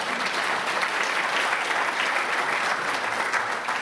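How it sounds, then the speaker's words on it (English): Steady, dense applause from a roomful of people at an awards ceremony, clapping for themselves, sustained at an even level throughout with no pauses. "just clap for yourself because you are"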